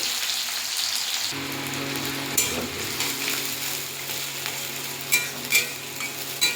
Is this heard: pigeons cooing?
no